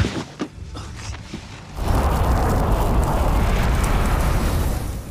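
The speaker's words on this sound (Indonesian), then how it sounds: "serangan langsung dilakukan terhadap bus tersebut sampai ledakan pun terjadi menghancurkan seluruhnya" A bus blown apart in an action film, a sudden heavy explosion erupting into a loud sustained roar of blast and debris that keeps rumbling to the end, preceded by a few faint clicks and movements.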